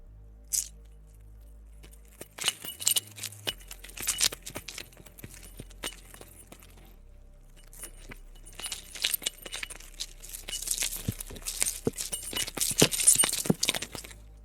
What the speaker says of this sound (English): I can't get the keys to just be loud enough.